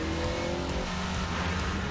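A car's engine revs hard in a commercial, a loud, dense roar that holds steady throughout, with a hint of tire noise and no voices.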